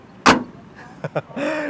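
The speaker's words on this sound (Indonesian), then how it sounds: "enak banget ya suara buka tutup pintunya tuh." A Mitsubishi L300 pickup door slams with a sharp, heavy thud, followed by a few lighter latch clicks and a brief tonal rattle, all close to the mic.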